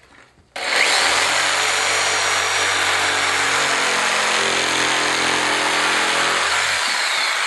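A jigsaw cuts through MDF board in a workshop, starting abruptly and running as a steady, loud, continuous buzzing saw drone close by, holding its pitch until the cut ends just before the close; no one speaks.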